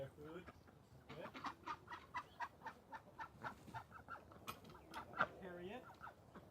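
Chickens at an animal sanctuary cluck in a steady run of short repeated calls, close and moderately loud, with faint background noise.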